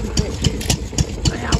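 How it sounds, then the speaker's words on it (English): Robinson patent hot air engine from about 1890 running up close with a steady, loud, regular chuffing beat of roughly four strokes a second, heard alone with no talking. "1900 hot air engine."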